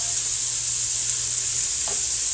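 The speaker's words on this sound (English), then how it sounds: "Let this oil heat up." Oil heats in a pan with a steady, close, bright sizzle that hisses evenly throughout, with no one talking.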